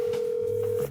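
An outgoing telephone call rings on the line, a steady single electronic ringback tone held throughout, loud and close as heard through the handset, with no talk over it.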